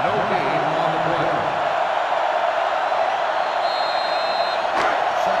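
Stadium crowd cheering in the NCAA Football 2005 video game during the Michigan rivalry game for the Paul Bunyan trophy, a continuous loud roar with whoops, under a commentator's talk.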